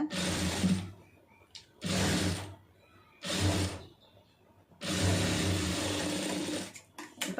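A sewing machine stitches fabric in four bursts of fast, even mechanical whirring, loud and close, with short quiet pauses between them and the last run the longest.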